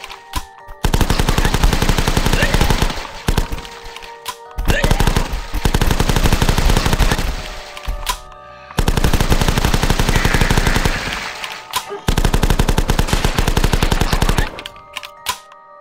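Rapid SMG and shotgun gunfire in a video game, loud dense bursts of automatic fire lasting several seconds each, separated by brief pauses.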